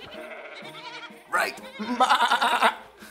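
Children at a kids' church session imitate sheep, with a chorus of young voices making wavering baa sounds in several bursts, and a brief adult word comes just before.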